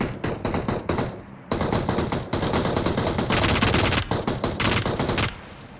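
Rapid bursts of automatic gunfire in BGMI (PUBG Mobile) rattle out loudly in several clusters, separated by brief pauses, with no talking.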